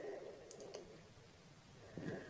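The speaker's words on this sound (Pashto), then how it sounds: "په سبمیټ باندې به کلیک وکړم" A couple of quiet mouse clicks land on a submit button during a Facebook account recovery, with faint room hum between them and no talk.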